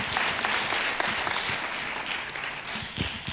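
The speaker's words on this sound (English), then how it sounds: "we should just have a round of applause for all the amazing people up on stage right now" Audience applause at a congressional candidate forum: a steady wash of clapping from a seated crowd, moderately distant and sustained for the whole stretch without pause.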